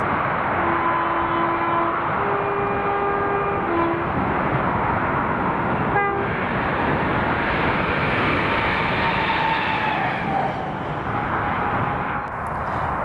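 Class 321 electric train 321407, in ex-Capital Connect livery, passes on the line from Moss End to Carlisle. A loud, sustained rushing roar holds throughout, with brief tonal horn-like notes early on and a slight fade at the end.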